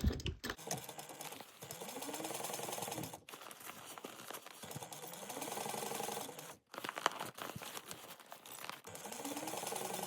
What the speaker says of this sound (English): you're just going to go around and sew this at 1/4 inch seam allowance